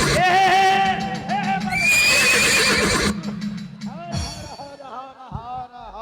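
A performer's voice imitates a horse neighing during a Hindi folk comedy stage show about a horse seller. Loud, warbling whinny cries rise and fall, with other voices and stage sounds around them.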